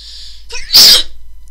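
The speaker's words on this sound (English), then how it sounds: "I've I've been sneezing a lot lately." One sharp, close sneeze from a person, a short breathy intake building into a single loud burst that quickly trails off.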